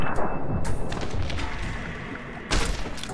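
A heavy gunshot booms during a slow-motion VATS headshot in Fallout: New Vegas, one loud blast with a rumbling tail, followed by another sharp impact near the end, with no voices.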